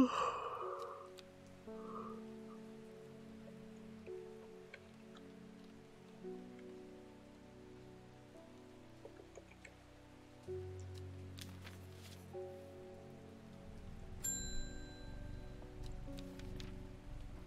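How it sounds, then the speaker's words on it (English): Soft, steady rain in the video game Strange Horticulture, set in Undermere, falls as a faint continuous patter under quiet game music and tones, with no talk. "Does it ever stop raining in Undermere?"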